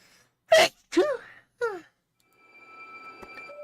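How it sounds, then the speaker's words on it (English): A few short explosive bursts of breath, sneeze-like, followed by a quiet sniffle over faint background hum. "Sorry, sneeze."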